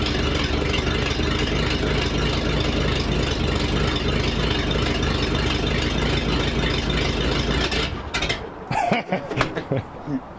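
An old car engine with no choke idles steadily while warming up at a fall swap meet, a loud continuous low rumble that cuts out near the end, leaving scattered handling noises.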